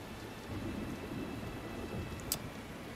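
Steady rain pours down in the video game Tales of Berseria, a dense, even hiss with faint thunder rumbling low underneath and one brief sharp crackle near the end, with no voices.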